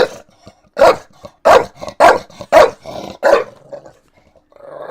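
A dog named Tilly barks and growls in a run of about six loud, gruff bursts, near and alone, then a low rumbling growl trails off at the end.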